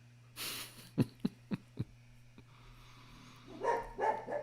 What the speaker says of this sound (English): That's a different dog who sometimes likes to yap at the worst times